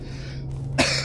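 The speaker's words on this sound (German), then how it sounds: "Husten." A single sharp cough bursts out near the end, loud and close, following a short stretch of low steady background hum.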